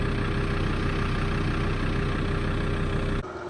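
A car engine idles at a campsite in the high country to charge batteries, giving a steady, close, low rumble for several seconds before the sound drops off abruptly near the end.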